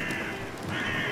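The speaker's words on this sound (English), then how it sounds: "Birds!" Crows cawing in the horror game Amnesia: A Machine for Pigs, a short burst of harsh overlapping caws, fairly loud and with no voices over them.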